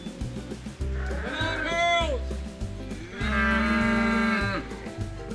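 Irish Dexter cattle on Windswept Farms give two long, resonant moos, one after the other, loud and close over a low bed of background music and faint farmyard clucking.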